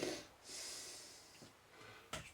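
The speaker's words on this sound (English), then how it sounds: "Just blow my nose." A person blowing their nose in a workshop, a long hissing nasal blast followed by a short sharp snort, close and alone.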